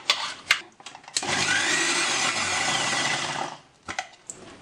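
An electric mixer grinder purées tomato chutney in one loud, steady whirring run of about two seconds, with clicks and knocks from the jar and lid just before and after.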